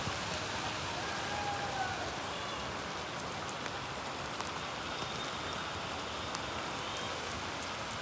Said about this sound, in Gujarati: આ ચાલુ જ છે અંદરાધાર વરસાદ.